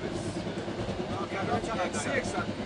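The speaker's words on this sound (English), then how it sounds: "we picked up the slow train to Mashhad" Slow passenger train rolling toward Mashhad, with a continuous rumbling carriage noise and faint rhythmic rail clatter heard from inside, steady and moderately loud, with some background voice activity.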